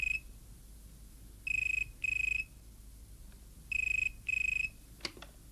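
A telephone rings in two double bursts, electronic trilling tones with pauses between, followed by a faint click.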